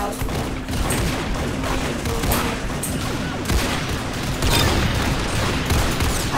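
Rapid bursts of golden pistol gunfire in the video game Arsenal crack loudly and close, repeated shots clustering in quick volleys over a busy backdrop of game effects, with little talk.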